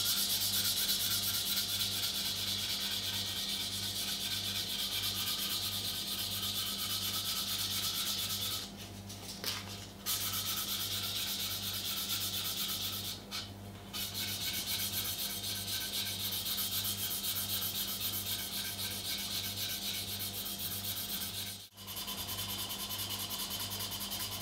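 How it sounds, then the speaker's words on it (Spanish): A deba kitchen knife being hand-sanded with 800 grit sandpaper, a steady close scraping rub with a regular back-and-forth rhythm, continuing alone for the whole span with two brief pauses. "lo que vamos a hacer es pasar a una lija de grano más fino. En este caso voy a pasar al 800."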